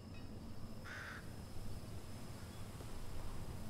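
One short caw of a bird in the video game Fortnite rises over a steady hiss of outdoor game ambience, the call brief and moderately clear, no talking.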